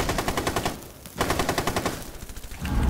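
Gunfire in the Rainbow Six Siege video game comes as loud, rapid bursts of repeated shots, a short pause between two volleys, then a further run of shots.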